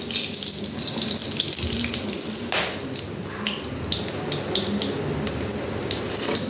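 Whole garam masala, with green cardamom, cinnamon sticks, cloves and bay leaves, fries in hot oil with a steady close crackling sizzle and scattered sharper pops, with no talking.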